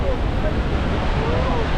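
Roar of Niagara's Horseshoe Falls seen in full view, a loud, continuous low rumbling wash of falling water with wind buffeting the microphone throughout.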